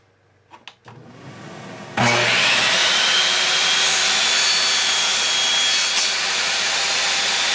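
Table saw cutting a 45-degree angle through a walnut pen blank on a sled: a few soft knocks, then the blade spins up and roars loud and steady through the cut.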